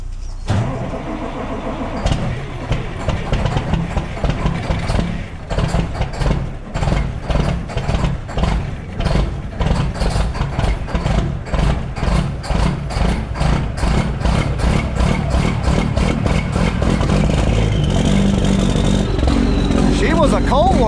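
400 HP tractor engine cranks, catches and settles into a loud, throbbing idle that grows steadier and revs, heard close over about twenty seconds.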